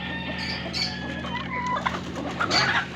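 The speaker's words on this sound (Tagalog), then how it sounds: "Dalawa na lang itong tandang na Rhode Island." Rhode Island rooster crowing amid clucking chickens on a small farm, the rooster's call rising among steady nearby hen clucks and faint flapping, with continuous background noise.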